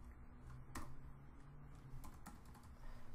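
Computer keyboard keys tapped while entering a line of Java code, a couple of sharp clicks standing out over a quiet, steady room hum, close and fairly soft.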